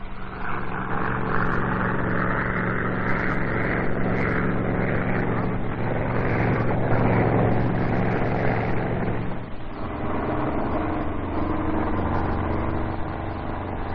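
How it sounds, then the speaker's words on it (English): A P-51 Mustang propeller plane performing precision aerobatics drones steadily, its engine surging and easing over a long pass with no voices. "People throughout the United States have been thrilled with Bob's precision aerial demonstrations in this P-51 Mustang."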